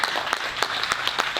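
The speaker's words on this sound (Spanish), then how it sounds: "Damos un aplauso al Señor por la vida de Jake Ryan." A church congregation applauding together, a steady patter of many hands clapping with rhythmic accents throughout, fairly loud and close, with faint voices mixed in underneath.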